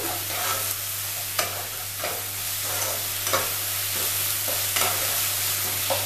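Pumpkin pieces fry in a pan with a steady close sizzle, broken by repeated sharp scrapes and stirs of a spatula against the pan, under a constant low hum.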